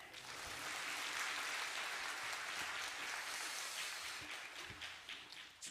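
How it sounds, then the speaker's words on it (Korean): A church congregation claps together to welcome the pastor to the pulpit before a sermon, a steady, dense wash of hands that swells early, holds, then thins into scattered claps near the end. "목사님 나오셔서 할렐루야 하실 때 우리 박수로 환영해 주시면 고맙겠습니다."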